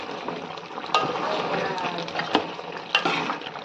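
Chicken curry being stirred in a pan: a steady sizzle with a few louder scrapes and knocks of the spoon against the pan, close by.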